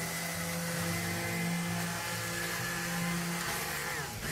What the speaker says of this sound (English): with our handy dandy immersion blender, we're just gonna puree it a little bit